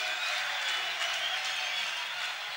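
A concert crowd at a Christmas show in a theatre applauds a band member, a steady, dense wash of clapping heard from a distance at moderate volume and sustained without break.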